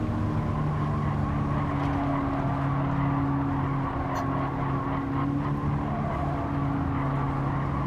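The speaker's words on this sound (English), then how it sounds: "Got another car going around the outside of me." Race car engines drone steadily in Gran Turismo 7 lobby racing, with another car running close alongside on the outside, a constant loud mechanical hum with faint tire noise and no clear squeal standing out.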